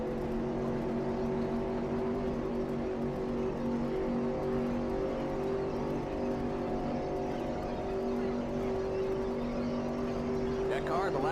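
Stock car engines in a NASCAR racing video game set in the 1949 Strictly Stock season hold a steady, loud, droning roar for the whole stretch, with no break and no audible talk.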